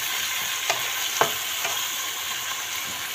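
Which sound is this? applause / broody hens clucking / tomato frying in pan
tomato frying in pan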